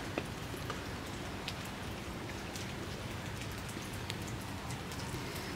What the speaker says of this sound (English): what do you think of the rain?